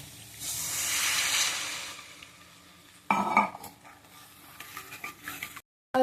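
Water poured into a hot pan of frying spice paste for a fish curry, a loud hissing sizzle that swells then fades, followed by stirring clatter of a utensil against the pan and a brief silence.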